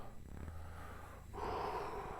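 Close, soft breathing during a slow body-massage exercise: a longer airy exhale fades out, then after a brief pause a steady inhale or breath continues, calm and unhurried with no talking.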